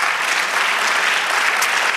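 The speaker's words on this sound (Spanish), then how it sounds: "Dale un aplauso al Señor." A church congregation applauds together, a dense, loud, steady wash of clapping with no gaps throughout.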